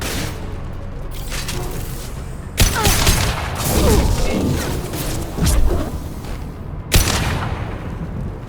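Gunfire during a firefight in Mass Effect 2 against Eclipse mercenaries near a shuttle, a dense barrage of loud bursts and booms with two sharp onsets and steady clatter between them.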